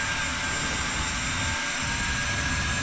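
A Boeing 737-300 in a flight simulator game roars with its thrust reversers deployed on landing, a loud, steady, broad jet rush that holds constant throughout.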